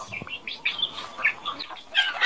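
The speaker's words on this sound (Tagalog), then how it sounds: "Chicks ng manok." Chicken chicks peeping close by, a string of short, high chirps coming in quick uneven bursts over a quiet background.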